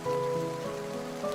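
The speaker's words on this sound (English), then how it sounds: "Are you okay in the rain?" Steady rain falls across the whole moment, a dense even hiss with faint tonal music layered underneath and no speech.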